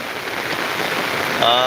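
Steady rain falls after an all-night downpour in rural Bangladesh, a continuous close hiss on surfaces with a few faint tonal sounds near the end.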